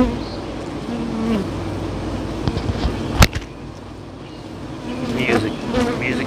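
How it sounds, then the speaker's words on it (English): Honeybees hum steadily inside an active hive in late June, a dense close buzzing that fills the whole stretch, broken once by a brief sharp knock near the middle. "we'll let y'all see what the sound is like inside of a hive"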